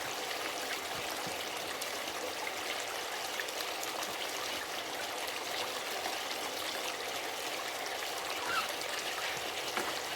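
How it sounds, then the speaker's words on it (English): Water flowing steadily through a home sluice box carrying 8-mesh gold-bearing material, a constant close rushing trickle with a fine, even texture and no talking. "we're gonna go ahead and run this 8-mesh material through the sluice box and see what we get"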